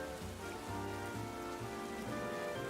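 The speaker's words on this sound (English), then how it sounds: "Yeah, it's raining." Steady rain falls in the video game Pokémon Legends: Z-A, a dense, even hiss of drops hitting surfaces that stays constant throughout with no voices.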